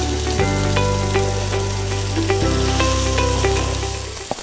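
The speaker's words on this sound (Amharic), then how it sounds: "በመጀመሪያ ዶሮዬን በመጥበስ ጀምራለሁ። መጥበሻችን ያው ግሏል።" Chicken fries in a hot pan with a steady, close sizzle over a low, constant hum, broken by a few sharp pops and ticks.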